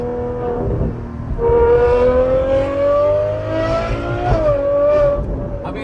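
A tuned Ferrari 812 V12 engine and exhaust driving through traffic, rising in pitch as it accelerates, easing, then revving up again, loud and close from inside the car.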